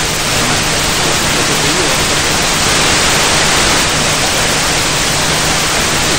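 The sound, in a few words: radio interference noise raised in receiver passband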